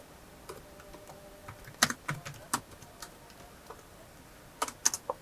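Keystrokes on a computer keyboard come in scattered, irregular bursts, close and fairly crisp, over a quiet room with no talking.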